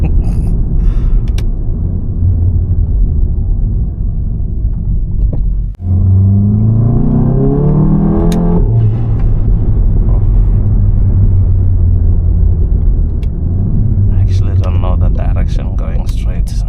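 A tuned VW Golf 7.5 GTI drives along with a low constant engine rumble from inside the cabin, rising briefly as it accelerates through a gear mid-way, with occasional talk over it.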